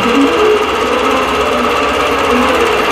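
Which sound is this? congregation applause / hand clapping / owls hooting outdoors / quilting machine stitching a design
quilting machine stitching a design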